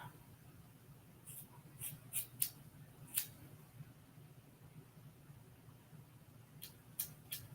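Scissors trim the ends of a lace wig in a few quiet, sharp snips, scattered irregularly over a faint steady hum with long pauses between cuts.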